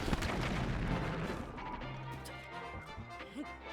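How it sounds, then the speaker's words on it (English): A wind bomb bursts in a video game with a loud, dense blast, followed by a rumbling tail and scattered thuds as it fades over a few seconds. "Okay, that's the wind bomb."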